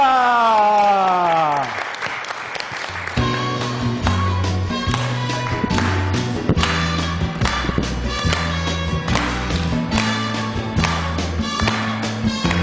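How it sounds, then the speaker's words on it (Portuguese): Audience applause for José Melodia on a Brazilian afternoon talk show, a sustained wash of clapping rising loudly under a stretch of music and voices. "Vamos aplaudir o José Melodia!"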